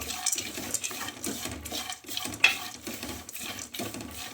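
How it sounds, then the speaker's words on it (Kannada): Peanuts being stirred with masala in a pan, a close, steady rhythmic scraping and rustling of a spoon through the nuts with faint sizzling underneath; no talk. "ಈಗ ಇದಕ್ಕೆ ಶೇಂಗಾ ಬೀಜ ಹಾಕಿ ಚೆನ್ನಾಗಿ ಮಿಕ್ಸ್ ಮಾಡ್ಕೋಬೇಕು"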